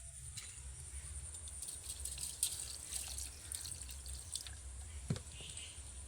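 A small amount of water goes into a litchi drink mixture, giving faint drips and light splashes over a low background hum.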